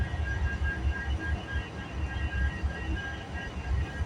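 A CPKC freight train rolls past near Kinnear Yard, a steady loud low rumble with rhythmic wheel thumps and a faint high squeal running through it.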